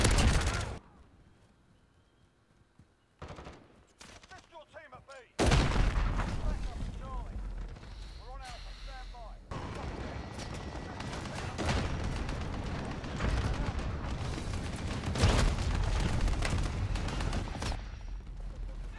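Shotgun blasts in a first-person shooter game, a few sharp loud shots followed by dense continuous gunfire and game noise, with talk mixed in.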